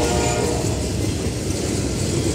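Norfolk Southern train 212, led by ES-44 DC locomotives, rolls past in Bethlehem, Pennsylvania, with a continuous loud, close rumble and rattle of rail cars and no talking.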